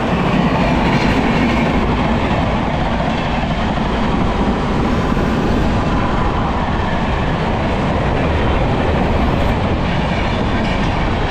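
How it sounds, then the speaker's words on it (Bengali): Delhi–Howrah Rajdhani Express rushing past on a parallel line near Chandanpur, a loud dense unbroken roar of wheels and rail clatter lasting throughout, no voices. "রাজধানী বেরিয়ে গেল, রাজধানী দিল্লি হাওড়া রাজধানী।"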